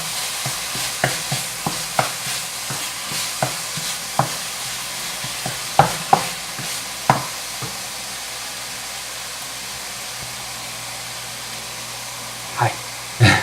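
Meat for a stew sizzles in a home kitchen pan under a soft frying hiss, broken by a series of sharp scraping clicks as it is stirred, then quieter sizzling with a few late scrapes.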